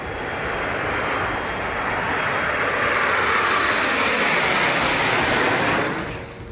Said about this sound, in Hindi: जहां पर सैन्य अभ्यास के दौरान हवा में ही सेना का विमान क्रैश हो गया।